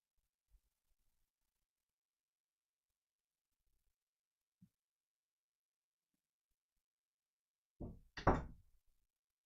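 A few quick knocks on a door come near the end, after a long stretch of near silence with only faint, scattered small taps.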